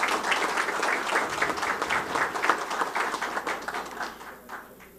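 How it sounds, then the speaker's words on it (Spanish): Dense applause from an audience at a public security strategy launch event fills the room steadily, then thins out and fades toward the end, with a faint voice under it. "Yo quiero un aplauso para ese..."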